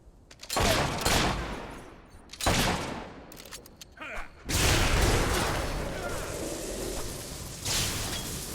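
Several loud, booming gunshot volleys in Fable 3 crack out in separate bursts, the last one rolling into a long, sustained roar of fire and rumble.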